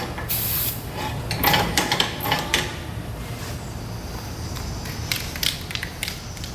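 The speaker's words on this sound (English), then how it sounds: "We use white lithium grease. Just grease her up." White lithium grease is sprayed from an aerosol can onto snow plow parts in short hissing bursts, with metallic clanks and handling noises in between, close and fairly loud.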